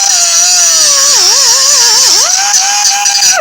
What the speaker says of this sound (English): I've got my cutoff wheel. I'm going to cut off the back of these screws.